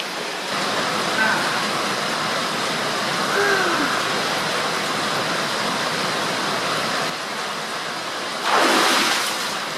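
River water rushes steadily beside an outdoor hot spring bath at Norikura Kogen Onsen in Nagano, a continuous broadband flow with a brief louder surge near the end.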